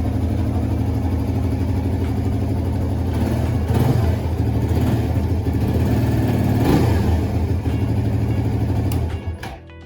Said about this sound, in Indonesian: Ini knalpot nih terutama, ini ngantuk banget knalpot,